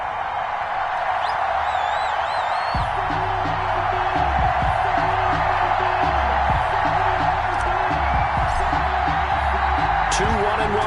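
Stadium crowd roaring before a Cleveland Browns vs Baltimore Ravens NFL football game, a steady wash of cheering and whoops under a commentator's voice, with music entering partway through.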